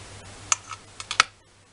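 A blade cuts through a cane of polymer clay (Fimo) on a work surface, making a few crisp, close taps and clicks in quick succession, with no voice over them.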